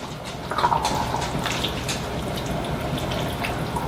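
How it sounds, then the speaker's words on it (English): A pot of homestyle chili with beans being stirred, giving a steady wet, sloshing churn that carries on throughout at moderate loudness, with no talking. "so we're going to stir this up good."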